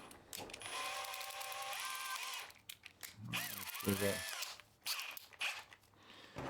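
A Hychika cordless drill whirs in several bursts, spinning up and winding down close by, with brief pauses and some clattering between runs.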